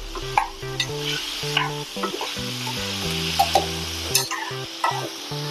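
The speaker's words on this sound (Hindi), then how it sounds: "इसको थोड़ा सा हम फ्राई करेंगे, थोड़ा सा नरम होने तक" Koodru and chana dal with spices frying on low heat give a continuous soft sizzle with intermittent scrapes of stirring, accompanied by steady background music.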